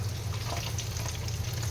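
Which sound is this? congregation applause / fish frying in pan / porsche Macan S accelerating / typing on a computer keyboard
fish frying in pan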